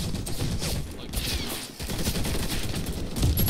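Sustained machine gun fire from an enemy gunner in the video game Warface, a dense continuous rattle of shots with no pause across a few seconds.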